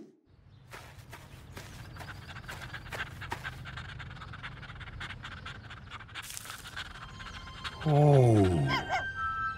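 A dog pants steadily and close by, with soft scratching and shuffling, then lets out a brief whining yelp near the end; a voice briefly exclaims.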